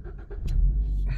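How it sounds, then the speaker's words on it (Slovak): A petrol car that has been standing cold-starts with a sudden low rumble, preceded by brief faint mechanical clicks and cranking, all within about a second. "A urobím studený štart,"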